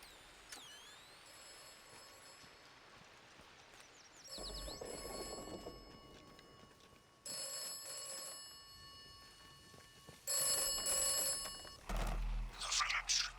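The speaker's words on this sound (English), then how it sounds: "The telephone's ringing." An old-style telephone rings in the village of Wyndham in the game Atomfall, its bell tones repeating in several bursts over faint ambience and other game noises, growing louder toward the end.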